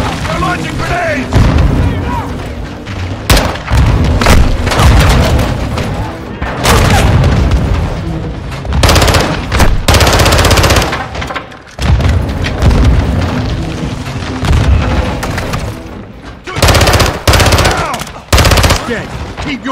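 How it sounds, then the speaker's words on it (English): Grenade blasts and sustained automatic gunfire from the Modern Warfare II campaign, loud, dense booms and rattling bursts throughout, with soldiers shouting over the combat. "Incoming! Take cover! They're launching grenades!"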